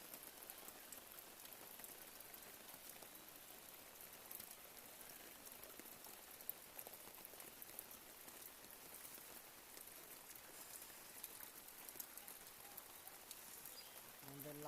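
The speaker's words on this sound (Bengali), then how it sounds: "কিরকম ভাবে বৃষ্টি হয়েই যাচ্ছে" Steady, even rain falls continuously in Lalgola, Murshidabad, a soft broadband hiss of drops on surfaces with no pauses throughout.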